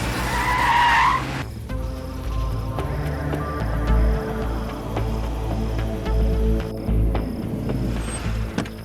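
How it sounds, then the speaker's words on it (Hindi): A car skids to a stop with a loud tire screech, then its engine rumbles and idles close by for several seconds, set against a dramatic movie soundtrack. "शायद मास गैंग वालों के घर के पास गाड़ी रुकी है।"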